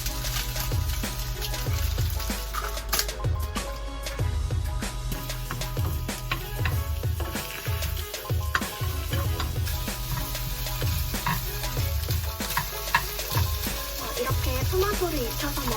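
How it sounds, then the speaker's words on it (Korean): Tomatoes fry in a pan with a continuous crackling sizzle, punctuated by regular scraping and stirring strokes throughout, with no voices. "이렇게 토마토 익는 소리가 들리면 계란을 깨서 프라이팬에 둘러주도록"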